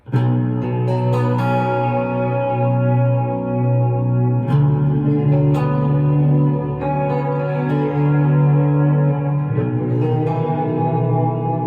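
An electric guitar plays sustained chords and notes washed in a warm, wobbly vintage tape-style reverb, with long echoing tails blending into each other.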